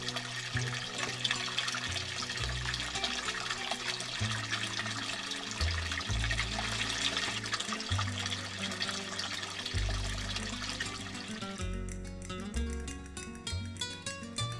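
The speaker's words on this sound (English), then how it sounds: "The water pressure we observed on the lower flat near the cabin comes from this natural spring source that is captured here." Water pours continuously from a captured natural spring source on a ranch hillside, a steady rushing splash that holds throughout and then thins to a lighter trickle near the end.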